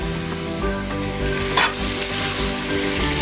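Ginger chicken frying in a pan over high heat, giving a loud, steady sizzle with stirring and spatter heard close up and no talking.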